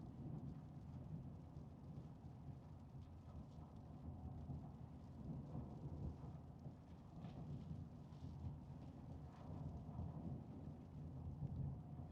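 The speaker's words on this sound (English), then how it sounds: "we got a little rain coming in" Steady rain with low rolling thunder heard from inside a vehicle during a drive in New Mexico, a continuous broadband wash that stays even and moderately quiet throughout, with no voices.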